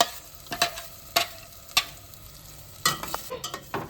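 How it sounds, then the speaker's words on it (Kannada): Ground masala paste fries in a pan for prawn masala, a low sizzle running under sharp, irregular scrapes and knocks of a spoon stirring against the pan. "ಫ್ರೈ ಮಾಡ್ಕೊಳ್ತೇನೆ."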